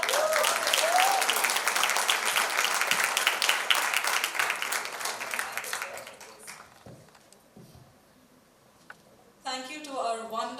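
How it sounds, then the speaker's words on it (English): A conference audience applauds panelists after a digital content panel discussion at the ISIM Summit 2024: dense clapping that fades over several seconds into near quiet, followed by a brief burst of amplified speech. "Let's give them a big round of applause."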